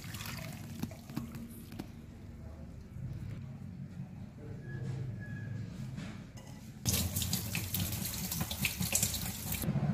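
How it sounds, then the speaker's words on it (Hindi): Water runs from a kitchen tap into a sink as boiled methi dana is drained and rinsed, a steady splashing flow that grows louder and fuller partway through, with faint handling noises. "अब इसका पानी हम फिर से ड्रेन करेंगे, अच्छे से धोएंगे"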